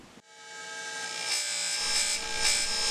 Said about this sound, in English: Here I'm using a cutoff disc. Just standard one that you'd use on a rotary tool